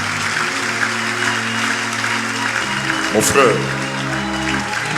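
Church congregation applauding and cheering during a French-language worship service, a broad steady wash of clapping under a voice speaking over it, with music sustained beneath.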